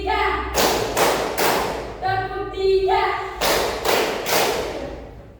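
A classroom of pupils claps in short, sharp bursts during a counting game. A few quick claps are followed by a pause while a voice speaks, then another group of loud claps ends it.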